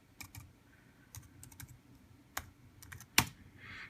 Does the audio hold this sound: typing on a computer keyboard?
yes